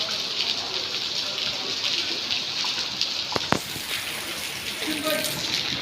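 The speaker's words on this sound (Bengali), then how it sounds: "আজকে আল্লাহর রহমতের বৃষ্টি শুরু হয়েছে।" Rain falling during a long hot spell gives a steady, even hiss throughout, with a couple of sharp knocks just past the midpoint.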